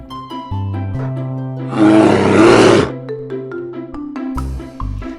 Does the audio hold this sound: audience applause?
no